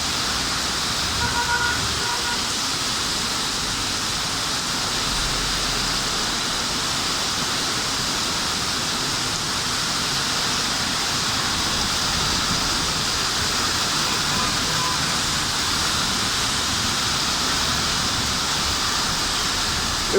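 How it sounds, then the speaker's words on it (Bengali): Heavy rain with gusty wind at night in Dhaka makes a dense, unbroken roar that holds close and steady throughout, with no voices over it. "বৃষ্টির তীব্রতা ক্রমেই বৃদ্ধি পাচ্ছে এবং সেই সাথে আমরা দেখতে পাচ্ছি দমকা হাওয়া, ঝোড়ো হাওয়া বইছে।"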